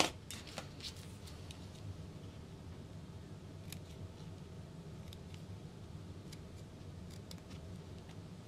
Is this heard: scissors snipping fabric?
yes